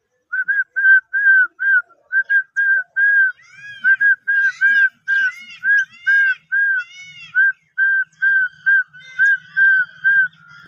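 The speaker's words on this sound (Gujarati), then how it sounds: "એને હું ચણ નાખું અને પછી સીટી વગાડું" A person whistles a long run of short, evenly spaced bright notes, loud and close, to call birds to scattered grain for feeding; a few warbling variations come midway, with faint bird sounds in the background.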